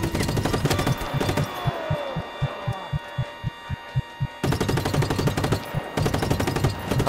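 Gunfire from the video game Just Cause 3: dense rapid bursts of machine-gun fire at the start and end, with a sparser, regular run of single shots in between, loud and with no talking.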